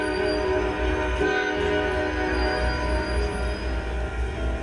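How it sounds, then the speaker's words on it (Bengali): A passenger train jolts into motion, a dense steady rumble of rolling carriages with a long horn-like tone layered over it, continuous and fairly loud throughout with no voices. "ঠিক এই সময় ট্রেন দুলে উঠল।"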